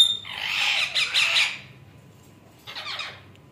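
A grey parrot gives a loud, harsh squawk up close while being fed, then a shorter second squawk after a brief pause.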